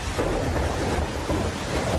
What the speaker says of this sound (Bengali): অন্ধকারে বিদ্যুতের গর্জন